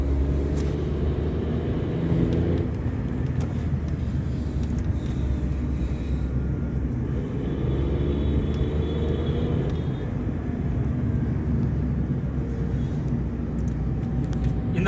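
A Tata Nexon accelerating in sports mode, its engine giving a steady, loud rumbling drone from inside the cabin that holds for the whole stretch with little change.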